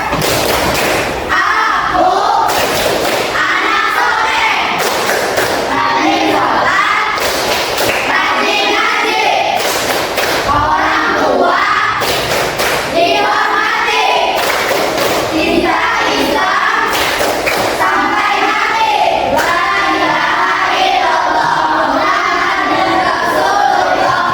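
Classroom of children clapping in a steady rhythmic pattern while chanting together loudly, the claps landing as sharp regular beats under the group voices throughout.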